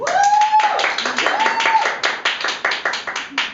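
An audience clapping in irregular bursts during an interactive story performance, underneath a bright held sung or spoken tone at first, then thinning to scattered individual claps toward the end.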